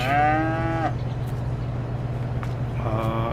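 Cattle in a cow barn in Farming Simulator 22 give two loud, close moos, one opening and one closing the moment, over a steady low hum with a quiet gap between them.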